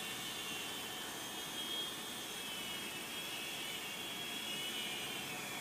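An Ascend Aeronautics ASC-2500 consumer drone flies in a headwind, giving off a steady, even whine and whoosh with no pauses; it sounds fairly distant and no one speaks.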